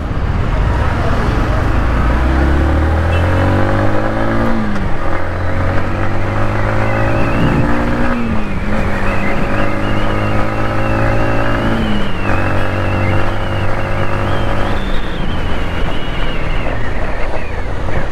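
A 2022 Yamaha MT-15 V2 motorcycle riding in second gear, its engine note rising and falling in pitch under heavy wind rush, with a voice talking over it.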